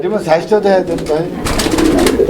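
A pair of grizzle-coloured Lahori pigeons, a male and a female, at a fancy pigeon farm, cooing in soft throaty bursts close by, mixed with someone talking and some brief rustling noise toward the end.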